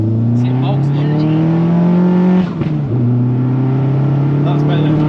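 A Vauxhall Zafira GSI engine revs loud and close through an acceleration run, with a rising drone that breaks briefly at a gear change and then climbs again. A voice talks over it.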